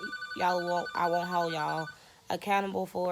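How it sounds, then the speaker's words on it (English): A telephone rings in a hotel room in Las Vegas with steady, repeating electronic tones. A person keeps talking over the ringing, which pauses briefly before starting again. "That was the phone ringing."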